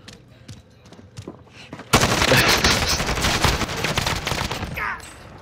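Dense automatic gunfire erupts abruptly in the battle royale shooter Call of Duty: Warzone, with loud rapid bursts that go on for several seconds. Quieter scattered shots come before it.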